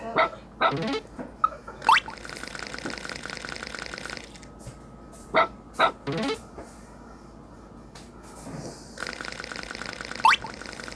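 A dog barks in a weird video game where the player controls a dog, giving repeated sharp close barks in short clusters with quieter whimpering gaps and game background sounds between.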